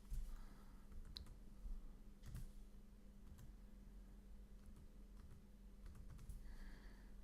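Someone types on a computer keyboard to fill in a robot-check text field, quiet irregular key clicks in short bursts over a steady low hum, with no talking.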